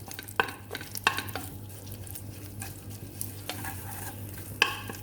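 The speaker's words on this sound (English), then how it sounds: "So I'm going to now give it a stir. I'm going to break it up." Shrimp paste is stirred in hot oil for a prawn laksa, a spoon scraping and clicking against the pan in irregular strokes over a continuous sizzle, close and alone.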